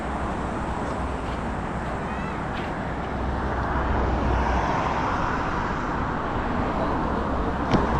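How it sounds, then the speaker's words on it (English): Steady broadband roar of an airplane passing overhead above Tangjia Bay Beach in Zhuhai, China, continuous and moderately loud for the whole stretch, with a faint hint of beach voices beneath. "Plane overhead there."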